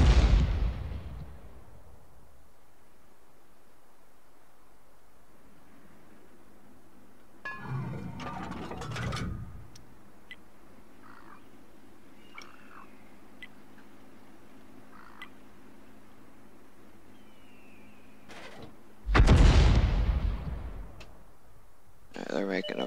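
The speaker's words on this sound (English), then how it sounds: "Artillery's messing them up, aren't they?" Artillery shells landing in World of Tanks, with one loud explosion at the start, a smaller blast in the middle and another big boom near the end, set against quiet battlefield ambience.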